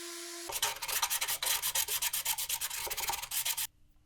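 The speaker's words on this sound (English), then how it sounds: "give everything a light sanding since I won't have access to the inside later on" Light hand sanding of plywood for a woodworking gift, a rapid run of rhythmic rubbing strokes, close and steady, stopping abruptly at the end with no voices.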